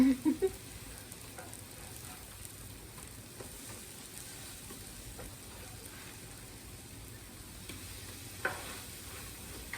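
Zucchini and onions fry in a pan with a steady, even sizzle that runs throughout, with a few soft clicks near the start.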